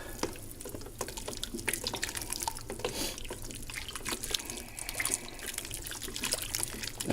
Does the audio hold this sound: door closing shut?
no